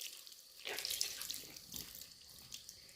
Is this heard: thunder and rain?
no